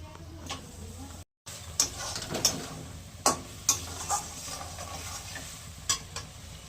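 Eggplant curry with a little sugar being sautéed in a pan, with a light sizzle under repeated sharp scraping and clacking strokes of a spatula against the pan, close and uneven.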